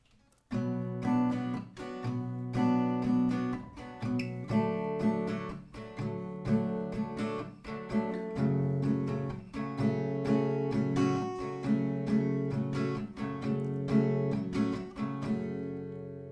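Acoustic guitar strummed in a steady rhythm, moving through a repeating sequence of chords, close and clear with no voices.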